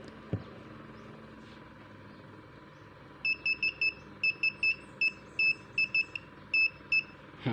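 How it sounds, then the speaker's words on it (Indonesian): A multimeter in buzzer (continuity) mode probes the circuit board of a Samsung A260G phone, sounding a run of about a dozen short, clear, high beeps in an uneven rhythm over a faint background hum. "Saya pakai buzzer, versi buzzer."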